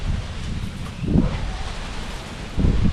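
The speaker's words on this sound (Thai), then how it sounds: "ลมแรง" Strong wind gusts buffet the microphone outdoors, giving a low, rumbling roar that surges in two heavier swells, with no talk.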